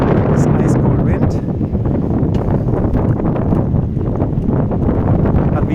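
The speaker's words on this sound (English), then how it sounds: "This ice cold wind." Ice cold wind blows steadily across an empty town street, a loud continuous roar with gusty rustling and buffeting on the microphone throughout, no voices.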